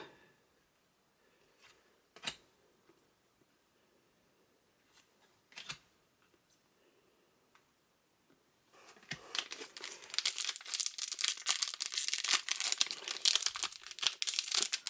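A Futera trading card pack wrapper is handled with a few sparse crinkles, then torn open with a sustained loud rush of crackling, crumpling foil over the last several seconds.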